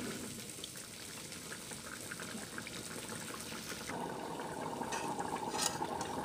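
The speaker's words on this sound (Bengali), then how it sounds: "এখন ফুটে উঠেছে পানিটা" Water simmers and bubbles in a pot on the stove, a soft continuous churning hiss that grows a little fuller and brighter partway through, heard close and fairly quiet.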